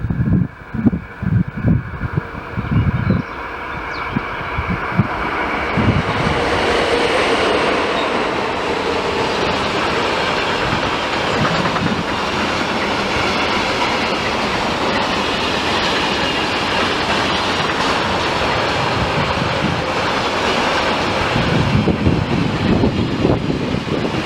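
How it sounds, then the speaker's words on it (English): Green 1957 E40-002 electric train passing trackside, a loud sustained rumble with clattering wheels on rails that builds and holds for many seconds before easing, with a few sharp knocks as it arrives. "Between the green bushes in the distance, a green train approached"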